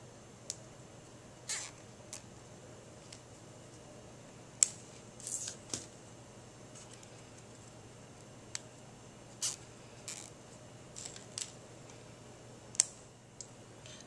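Wiring work on a Traxxas Slash RC truck, with zip ties being pulled and snipped to secure the switch and power wires: scattered sharp clicks and ratcheting snips, quiet and intermittent over a low background hum, with no talking.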